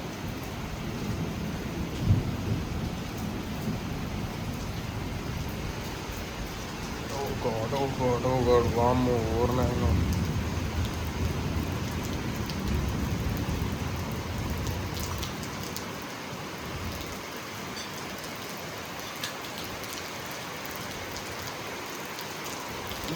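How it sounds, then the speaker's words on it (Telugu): Heavy rain with thunder pours down outside a house during a storm, a steady close hiss of downpour throughout, with someone speaking over it and a brief voiced rise in the middle. "ఘోరంగా అంటే ఘోరంగా వర్షం పడుతుంది."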